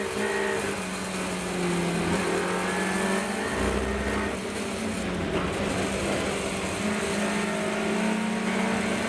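Race car engine on track during the Silverstone Festival, a loud continuous onboard drone holding steady as the car is eased cautiously into a corner, with a brief low dip midway.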